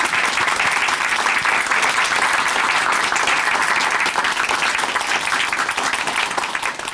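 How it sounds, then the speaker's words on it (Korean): Warm applause from a church congregation after a testimony, a full, steady wash of clapping that holds for several seconds and then slowly thins out. "귀한 간증 들려주신 정병인 형제님께 다시 한번 큰 박수 보내드릴게요"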